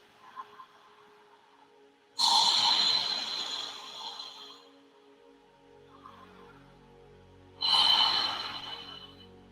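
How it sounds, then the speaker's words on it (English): Deep breathing passes through the throat with the lips closed, two long, rushing breaths several seconds apart that each fade slowly in an otherwise quiet room. "Pass the breath deeply in and out of the throat."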